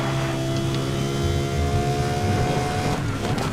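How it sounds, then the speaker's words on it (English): A car engine in the video game Need for Speed Most Wanted (2012) drones and revs steadily, its pitch climbing and holding, loud and close with a smooth mechanical tone throughout. "Listening to that satisfying engine note."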